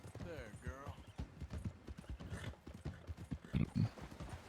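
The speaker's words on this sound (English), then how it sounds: "Riding my own horse." Horse hooves clip-clop in a steady riding rhythm in Red Dead Redemption 2, close and clear beneath someone talking over the gameplay.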